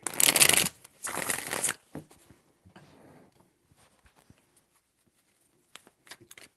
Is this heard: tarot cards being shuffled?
yes